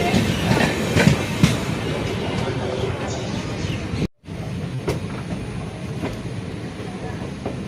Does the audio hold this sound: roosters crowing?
no